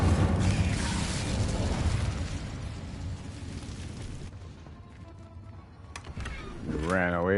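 The Incendio fire spell cast in Hogwarts Legacy gives a loud roaring whoosh of flame that swells and then trails off, followed by fainter game sounds as a voice speaks in the background.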